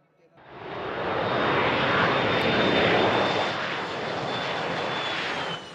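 A chartered plane arriving in Bhutan from Bangladesh carrying the World Cup trophy, its engine a loud, steady roar that swells in quickly and stays strong for several seconds.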